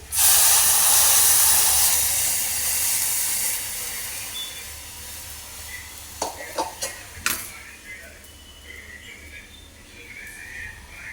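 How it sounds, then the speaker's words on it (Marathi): A loud burst of steamy hissing erupts as water hits a hot pan with red chili powder, slowly fading, followed by a few sharp clicks and a soft lingering sizzle. "पाणी घालूया"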